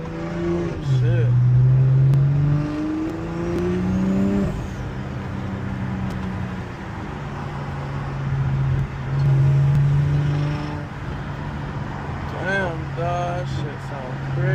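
A turbocharged car engine with a 6870 turbo, sounding close to a 2JZ, revs in rising and falling pulls while the turbo spools, loud and near, with voices talking over it.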